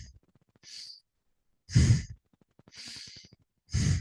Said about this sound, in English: So inhale forward, exhale back.